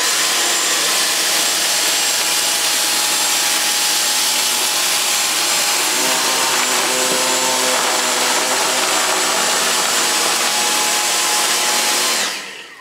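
Dyson DC35 and Dyson V6 cordless vacuum cleaners picking up scattered debris such as rice and rolled oats, a loud, constant high-pitched motor whine with rattling debris that shuts off abruptly at the end, with no talking.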